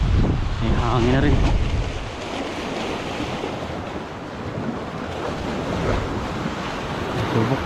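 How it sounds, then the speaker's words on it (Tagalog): Strong beach wind buffets the microphone in gusty, rushing waves over a steady roar of surf, with faint voices now and then. "May hangin na rin."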